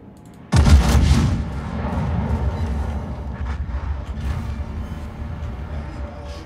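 Main guns of the Italian battleship Ruggiero di Lauria fire in World of Warships: one sudden, loud, close boom, followed by a long, heavy rumbling roll that slowly fades.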